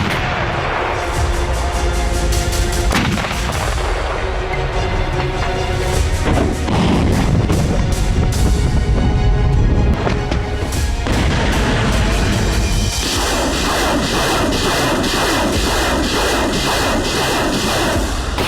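Heavy Russian artillery booms repeatedly in the war in Ukraine, deep thuds and blasts rolling over one another, loud and sustained, with a steady high tone appearing near the end.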